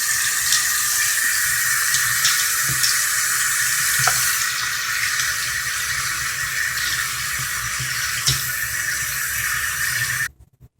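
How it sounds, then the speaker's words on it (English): Steady tap water pours and splashes in a sink while doll hair is rinsed during a Barbie restoration, a constant close hiss that stops abruptly at the end. "then you're going to go ahead and rinse her hair out."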